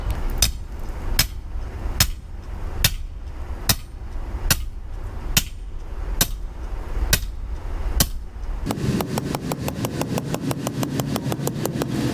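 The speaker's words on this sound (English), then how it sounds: "then we're gonna drive the pipe into the ground right here" Steady metal-on-metal hammer blows driving a pipe into the ground beside a leaning tree, about one strike per second at first, then a much quicker run of blows near the end, over a low running engine hum.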